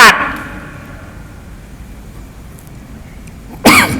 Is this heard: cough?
yes